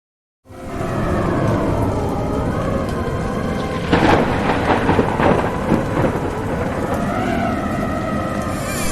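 Heavy rain pours loudly and steadily outdoors while deep rolling thunder rumbles through the middle, starting abruptly after a brief silence.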